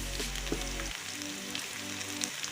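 Garlic ginger paste dropped into hot oil in a pan for a black chana curry hisses with a steady, crackling sizzle, loud and close, its low hum cut off partway through.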